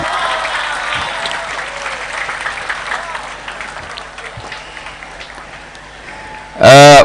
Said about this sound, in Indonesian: tepuk tangan untuk nasib.